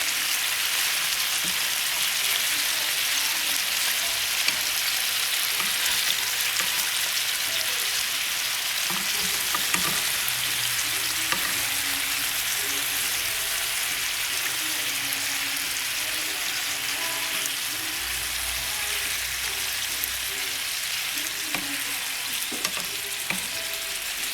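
Barbacoa meat frying in a pan just after being flipped, a dense, steady sizzle with crackling spits running loud and unbroken throughout.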